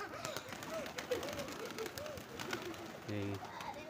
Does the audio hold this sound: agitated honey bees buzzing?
no